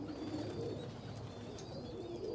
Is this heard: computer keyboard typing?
no